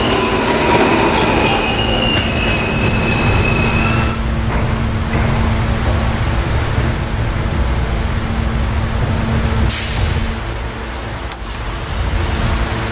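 An F local subway train rumbles steadily along the tracks near 4th Avenue–9th Street, Brooklyn, with a constant low drone, brief high wheel squeals and metallic screeches breaking through near the end.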